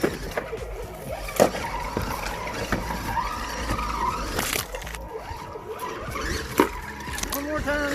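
A Redcat Gen8 RC car on new tires runs at full throttle through water, a whining motor under splashing and spray, with voices talking over the action.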